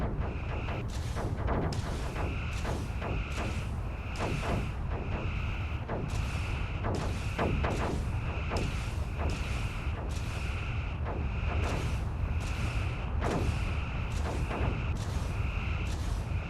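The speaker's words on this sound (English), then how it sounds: "That was a pretty big explosion." In a Star Trek space battle game, booming explosions and weapon blasts repeat in rapid, irregular bursts over a heavy rumbling bed, loud and relentless throughout.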